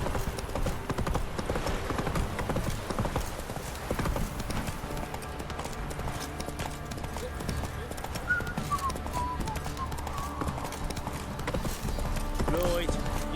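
Roach, the horse in The Witcher 3, gallops in a rapid, steady clip-clop of hooves close by, with someone talking over the hoofbeats and brief tonal game sounds.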